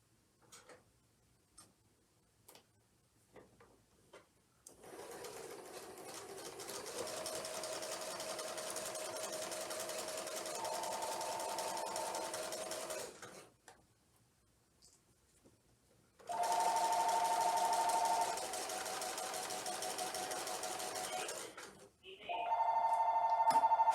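A sewing machine stitches pinwheel quilt block pieces together in two long, steady whirring runs separated by a quiet pause, then a short restart. Faint clicks and handling noises fill the gaps.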